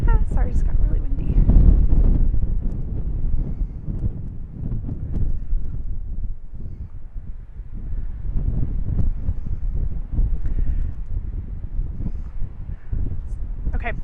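Heavy, blustery wind buffets the microphone, a dense low rumble that swells and falls throughout with no pause.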